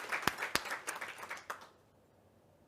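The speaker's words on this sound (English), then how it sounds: "Can we give a round of applause again for the launch of the AYGS alumni?" A small audience at a climate research session claps for an alumni network launch, the applause quiet and scattered with a few sharp individual claps, then dying away into near silence.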